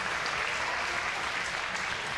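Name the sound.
crowd applause for both fighters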